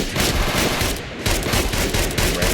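Enfield MP-45 .45 machine pistol in Fallout 4 firing loud, continuous automatic bursts, with a brief pause around the middle before the rapid fire resumes.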